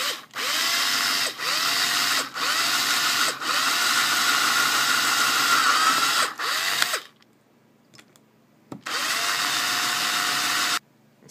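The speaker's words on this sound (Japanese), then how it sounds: "ドライバードリルの先に2ミリをつけて穴を開けます。" A driver drill with a 2 mm bit whirs steadily in several loud bursts, boring holes in a handmade fishing lure, briefly stopping and restarting, then goes quiet before one more burst near the end.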